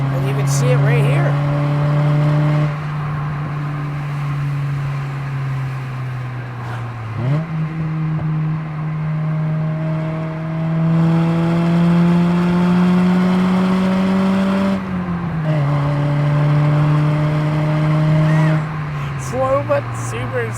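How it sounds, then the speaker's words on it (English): Engine of a 2007 Honda Fit GD3 revving hard while driving, climbing in pitch through several gear pulls with brief dips at each shift, a steady loud interior drone with a voice talking over it. "You just hear that typical Honda scream and roar."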